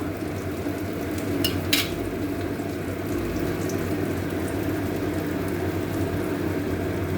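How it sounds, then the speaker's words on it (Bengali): Curry gravy with banana-flower koftas boiling in a pan gives a steady bubbling simmer close by, with a couple of faint clinks near the start. "ঝোলটা ফুটছে"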